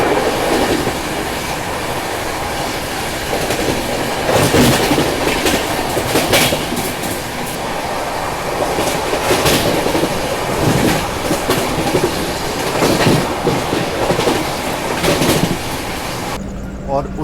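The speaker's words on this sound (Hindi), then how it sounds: "तो ट्रेन अराउंड 130 किलोमीटर की रफ्तार में ट्रेन चल रही है" A passenger train on a Varanasi to Gandhinagar run travels at around 130 km/h, giving a loud, continuous interior rumble with rhythmic clickety-clack of wheels over rail joints and occasional louder surges.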